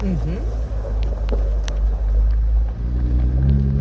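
A vehicle drives into a remote desert slot canyon, its engine a loud, steady low rumble close by with wind noise, while people talk over it.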